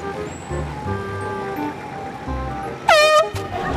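An air horn blasts once as a prank, a loud, sudden, brassy blare lasting about half a second and cutting over quieter street noise and low background sounds.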